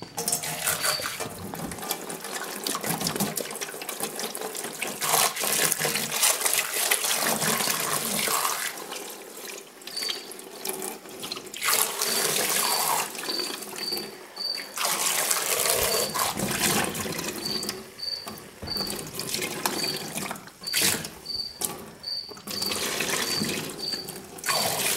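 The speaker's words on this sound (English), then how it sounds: "Let me go ahead and open that vinegar and pour it in." Vinegar glugs and splashes steadily out of a gallon jug into a container, a continuous watery pour with gurgling, faint clinks and brief high beeps over it, and no talking.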